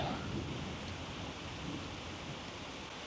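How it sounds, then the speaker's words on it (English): Steady, dense rain hisses down outdoors during a South Florida fishing trip, a loud, unbroken wash of sound with no break or voices. "Looks like we're fishing in the rain today."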